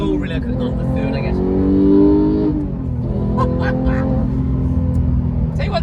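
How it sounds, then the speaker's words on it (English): Porsche 911 GT3 with a manual gearbox howls at high revs, a loud rising engine wail that climbs, peaks and then falls away after a shift, with the engine droning steadily afterward beneath occasional in-car sounds. "An unbelievable howl from this engine."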